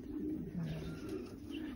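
Racing pigeons coo softly at a loft as they come back from a 130 km race from Bergerac, a low rolling coo repeated close by with no talking.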